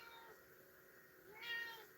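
A cat gives one short, faint meow in a quiet indoor room, heard alone near the end.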